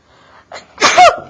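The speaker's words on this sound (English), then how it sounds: "Hold on, I got to sneeze." A single close, loud sneeze, with a quick sharp intake of breath just before the burst.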